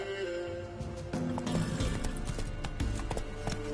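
Roach, Geralt's horse in The Witcher 3, gallops with a steady drumming of hooves, close and moderately loud over faint game ambience, with no talk.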